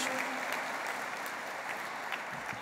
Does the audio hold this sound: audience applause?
yes